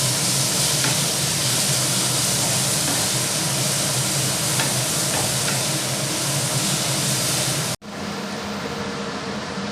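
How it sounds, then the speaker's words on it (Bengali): Chopped onions fry in hot oil for a masala crab dish, giving a loud, dense, steady sizzle that cuts out abruptly near the end and then resumes more quietly. "এবার পেঁয়াজ কুচিগুলো আমি তেলের মধ্যে দিয়ে দিচ্ছি"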